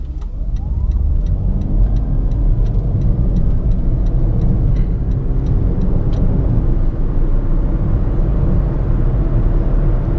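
A 2017 Toyota Prius accelerating hard to overtake another car gives a steady, loud engine and road drone close by, running unbroken through the whole stretch with no talk.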